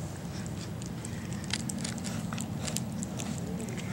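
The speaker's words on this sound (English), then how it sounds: "What you doing? You chewing on something?" A puppy chews on something at close range, a faint, irregular run of small crunching and crackling bites over a low steady background hum.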